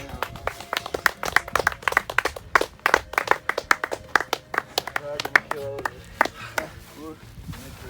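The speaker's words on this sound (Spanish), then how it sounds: "gritos, aplausos." A small group of hikers at a mountain summit claps in sharp, separate close claps with scattered shouts and voices mixed in, uneven and lively rather than a dense wash.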